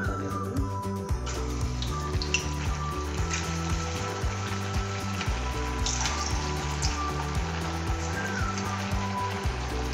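Food fries in hot oil in a home kitchen, a continuous sizzle sitting under clattering and a repeating background tune, with no voices.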